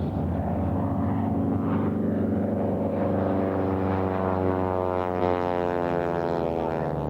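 At an air show, a propeller airplane engine drones loud and steady, its pitch sliding gradually as the aircraft turns, with no talk.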